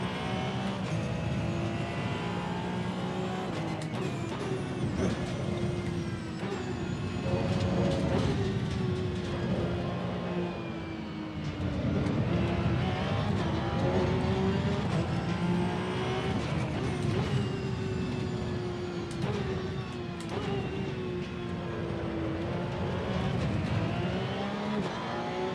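A race car in the Assetto Corsa Evo racing game is driven hard, its engine revving up and down through gear changes in a loud, continuous roar with no talk over it.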